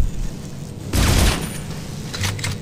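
Gunfire in the sci-fi horror video game Dead Space 2: a dense burst of shots and booming impacts swells for about half a second, then a quieter rumble and a few later blasts follow.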